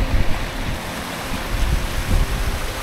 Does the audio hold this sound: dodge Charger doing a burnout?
no